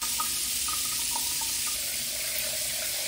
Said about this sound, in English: add boiling or extremely hot water to the drain